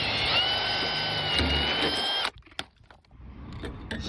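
A rivet tool working on a rusty car sill: about two seconds of loud, steady whirring with a high whine, then a sudden stop followed by a few sharp clicks and metallic snaps.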